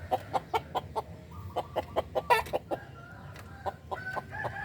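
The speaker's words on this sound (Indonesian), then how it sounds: "ada berkokoknya" Rooster crowing near a backyard chicken coop, with a rapid train of sharp repeated clucks and calls and a crow, loud and close, with no talking.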